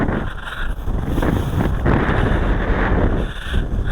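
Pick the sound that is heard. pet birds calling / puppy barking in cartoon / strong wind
strong wind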